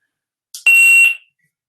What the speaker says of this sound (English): But it also has a beeper, so if you want to sort of contact groups of people in the open air